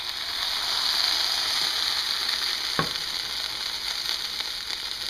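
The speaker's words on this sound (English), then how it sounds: "Look at that sizzling." Plantain slices frying in a pan give a loud, steady, close sizzle with a constant hiss and crackle, plus one brief knock partway through; no one speaks.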